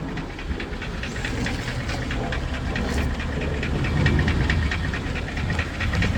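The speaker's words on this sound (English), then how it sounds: "go back underneath the vehicle with the vehicle running" A running Mercedes-Benz S430/S500 W220 V8 is heard from underneath the car, giving a loud, steady rumble with a rapid ticking, knocking rhythm and hiss throughout, without speech.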